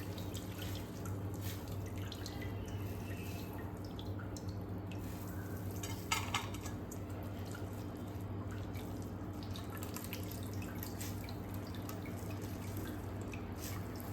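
Water squeezed by hand from grated potatoes for farali potato bhajiya trickles and drips into a bowl, a faint, steady wet patter over a low kitchen hum with one brief splash near the middle.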